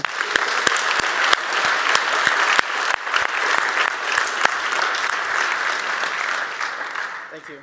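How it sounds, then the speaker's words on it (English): Award ceremony audience at a free cities conference applauding an innovation award winner: loud, sustained clapping from a crowd with sharp individual claps standing out, continuing for several seconds before tapering at the end. "A big applause for Mitchell."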